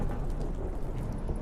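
A rain storm at sea in The Witcher 3 rumbles as a steady, low, dense wash of rain and wind, with no pauses and no voices.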